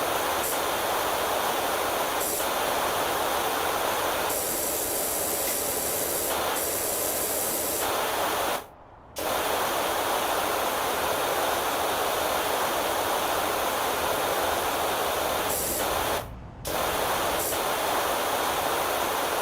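A pressure washer sprays in PowerWash Simulator, blasting a steady, loud, dense hiss that runs continuously and cuts out briefly twice before resuming.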